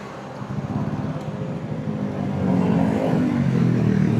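A Honda Giorno 125 scooter idles, then its engine revs up at a repair shop beside a highway, before a remap. The low motor drone is close and steady and grows louder and rougher as the throttle opens.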